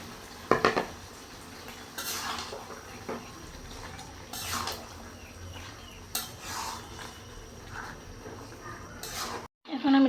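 Meat is tipped into a cooking pot of fried spices. Metal utensils clatter and scrape against the pot in several uneven bursts, close by, with quieter stirring and kitchen noise in between.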